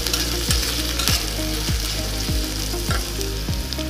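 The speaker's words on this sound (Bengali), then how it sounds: "রসুন এবং জিরেটা ভালো করে ভেজে দিচ্ছি" Onion, garlic and cumin fry in a pan for red spinach, giving a steady close sizzle broken by a regular rhythm of spatula scrapes about every half second.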